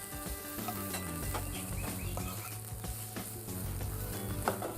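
A cabbage mallum mixture with garlic sizzles in a pan while being stirred, giving a continuous close frying hiss with light scraping, set against a steady background hum, no speech.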